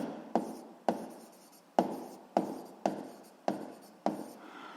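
A pen writes on paper in close, crisp strokes, each starting with a sharp tap and trailing off in a scratchy drag, about seven in a row at a fairly even pace, with no talking.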